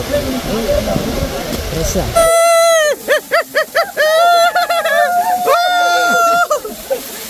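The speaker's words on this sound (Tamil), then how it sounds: "மாசிலா அருவிக்கு வந்தாச்சு. இந்த கொட்டிக்கிட்டு இருக்கு பாருங்க." Masila waterfall in the Kolli Hills pours in a loud, steady roar, then someone talks over it and the rushing water continues beneath his voice.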